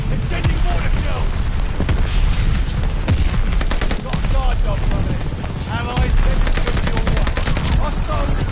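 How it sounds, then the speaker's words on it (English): Mortar shells exploding in the Call of Duty Vanguard video game, heavy booms mixed with dense rapid gunfire, loud and continuous, while a player talks over the battle. "They're sending mortar shells."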